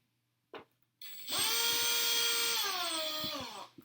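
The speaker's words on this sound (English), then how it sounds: "This is how you drill through tables." A power drill whines steadily at close range after a couple of short knocks, its pitch sagging as it bites through wooden blocks on a table, then winding down.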